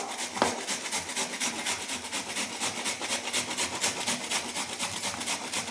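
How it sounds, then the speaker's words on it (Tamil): Cabbage being grated on a vegetable grater, a steady close rasping with fast regular strokes, moderately quiet and without speech. "இந்த மாதிரி காய் துருவுறதுல வச்சுட்டு இந்த முட்டைக்கோஸை இப்படி துருவி எடுத்துக்கலாம்."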